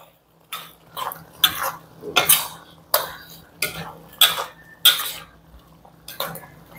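Beef and broccoli are stirred in a pan with a metal utensil, giving about ten distinct clanks and scrapes at a roughly even rhythm. The sounds are close and fairly loud, with no talk over them.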